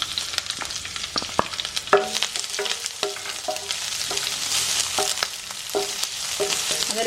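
Long-sliced onion frying with curry leaves in a pan for Kerala cheera thoran: a steady close sizzle broken by regular clinks and scrapes of stirring, with no talk.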